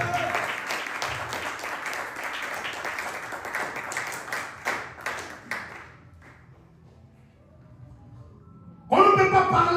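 A church congregation applauds and cheers loudly in bursts during a worship service, the clapping fading to near silence before a sudden loud burst returns at the end.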